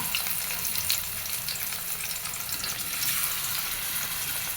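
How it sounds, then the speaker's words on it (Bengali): Fish fillets dropped into hot oil give a constant, dense crackling sizzle, loud and even throughout with no talk. "ভাজার জন্য মাছগুলো দিয়ে দিলাম।"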